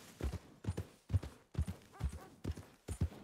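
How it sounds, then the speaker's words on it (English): Horse hooves clip-clop in Red Dead Redemption 2, a steady, fairly loud rhythmic gait of paired thuds repeating about every half second, close and alone with no talk. "Come on, horse. You can go faster than this."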